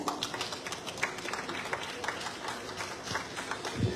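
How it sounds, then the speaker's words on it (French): Audience applauding at a prefecture solidarity event, a sustained moderate round of clapping from a crowd, slightly distant and even, with a thump near the end. "Je vous demande de faire un tonnerre d'applaudissements"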